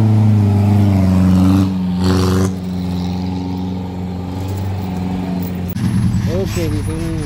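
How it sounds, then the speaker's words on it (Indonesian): A Mitsubishi L300 revs hard on a steep rocky climb, its engine note loud and sustained with pitch shifts, while people talk nearby over it. "L300 lagi ngegas."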